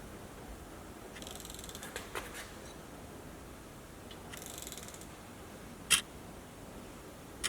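Quiet mechanical ratcheting comes in short bursts as a bolt is tightened, followed by a sharp click near the end.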